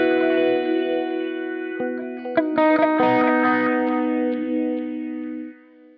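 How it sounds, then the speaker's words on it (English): An electric guitar plays through the sweep echo delay on a Line 6 HX One pedal. Sustained chords and a few plucked notes ring out with swirling, repeating echoes that sweep and fade away at the end. "One of my favorites, let's go sweep echo"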